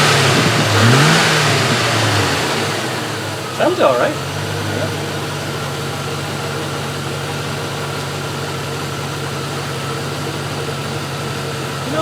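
A Range Rover engine, just repaired after a fault, revs up briefly and then settles into a steady idle, close and loud, while a voice says a few words over it.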